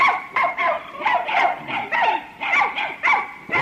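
A dog barks repeatedly near a small hut, about eight sharp barks in an uneven rhythm, close and loud with brief gaps between them.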